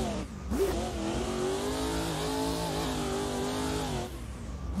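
BMW M4 drift car in the CarX Drift Racing game, its engine revving hard and sustained with rising and falling pitch, loud and steady with no talk.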